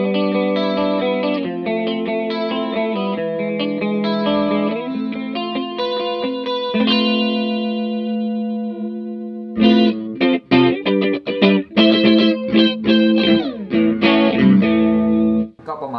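Electric guitar through an analog chorus effect pedal, sustained shimmering chords with a wavering, doubled tone, then a run of sharper strummed and picked notes in the second half, loud and close with no talking.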